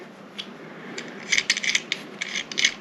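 A sight pusher tightening down on a Glock pistol slide gives close scraping and rasping clicks of metal, sparse at first and then clustered in short gritty bursts.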